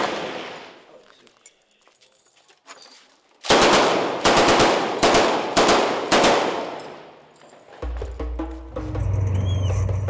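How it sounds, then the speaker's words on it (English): Fighters fire on the Sirte front line in a series of loud, close bursts of gunfire, each sharp crack trailing off. A quiet stretch comes before the bursts, and a low engine-like rumble follows them. "they're preparing to fire at the enemy"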